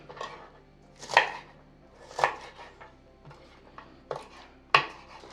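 Knife chopping cabbage into petal-shaped pieces on a board for a vitamin salad, about six distinct crunchy cuts spaced irregularly, close and clear.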